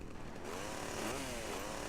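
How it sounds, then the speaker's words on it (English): A chainsaw engine roars and grinds steadily against a car window in Grand Theft Auto: Vice City, loud and close, with a rising whine in the middle. "Apparently, window is impervious to chainsaw."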